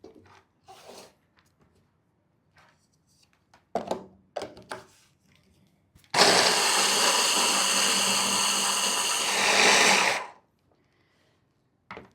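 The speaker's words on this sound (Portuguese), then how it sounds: "Vamos agora triturar as folhas de acelga num processador manual, super tranquilo." Chard leaves are ground in a hand-operated manual food processor, giving about four seconds of loud, continuous rasping and whirring. Scattered clicks and handling knocks come before it, and the grinding stops abruptly.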